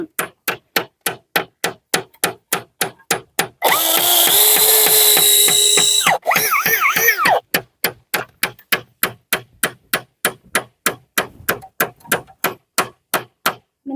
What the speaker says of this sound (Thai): ไปเจาะเลย